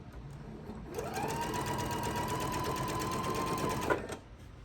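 A sewing machine runs one continuous burst of about three seconds, stitching a scant quarter-inch seam on a quilt block. Its steady, close whirring hum starts abruptly and stops cleanly, with quiet room tone before and after.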